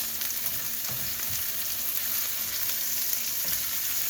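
Food sizzles steadily in a hot pan after flipping, a constant bright frying hiss with a few soft scrapes and taps, no voices.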